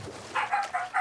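A dog in the video game God of War Ragnarok gives four quick, clipped barks in an even rhythm, moderately near and fairly quiet, with no talk over them.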